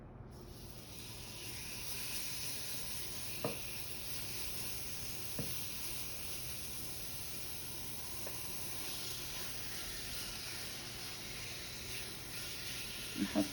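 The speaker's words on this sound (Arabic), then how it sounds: "توا من بعد ما القلايه نتاعنا سخنت، توا ناخذ الدجاج نتاعنا ونتبلوه ونحطوه قصدي" Seasoned chicken frying in a hot pan, a faint, even hiss sustained throughout with a few small isolated pops and clicks, distant and low in level.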